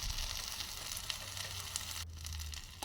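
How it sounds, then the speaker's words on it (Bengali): Potatoes and tomatoes frying in oil for a prawn bhuna, a soft continuous sizzle with a low hum underneath, quiet and close, over a few seconds without speech. "তেলের মধ্যে দিয়ে আমি আলুটা আর টমেটোকে একটু ভাজা করে নেব"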